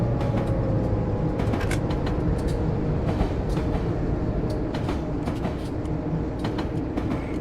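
A New Haven Railroad EMD GP9 diesel locomotive in a train simulator game holds a steady, loud engine drone with continuous rumble and mechanical clatter, and brief sharper ticks scattered throughout.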